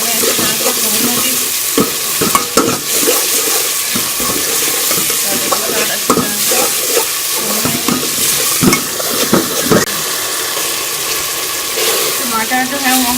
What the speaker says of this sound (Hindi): इसको भी 1 से 2 मिनट मसाले में अच्छी तरह से भून लूँगी।